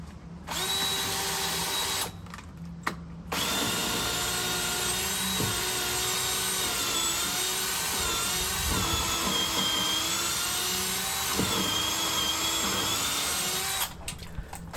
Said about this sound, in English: I used 3 different drills to make the holes.